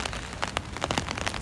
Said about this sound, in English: Nice relaxing rain.